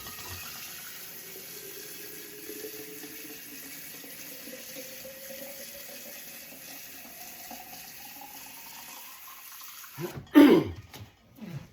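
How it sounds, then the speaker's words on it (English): Water from a tap runs steadily into a mason jar for about ten seconds, a soft continuous filling wash, then it stops and a few short throat-clearing sounds follow. "2 quarts of water added there."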